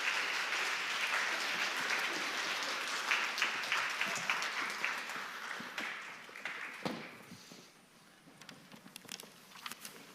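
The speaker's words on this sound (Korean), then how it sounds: "여러분, 모세와 아론이 나올 때 큰 박수 부탁드리겠습니다" A church congregation at an intergenerational worship service claps as performers playing Moses and Aaron come out. The dense clapping is fairly quiet and distant, then thins into scattered claps and fades out.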